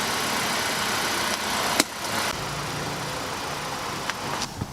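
A 2015 Honda Accord out on a sunny test drive hums with a steady mid-pitched engine drone and broad road and wind noise, punctuated by a few brief clicks and knocks.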